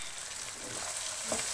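Green chicken keema sizzling in a pan with capsicum, green chillies and coriander, a steady close hiss of frying with faint stirring scrapes.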